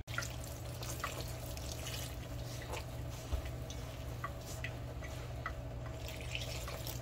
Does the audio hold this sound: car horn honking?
no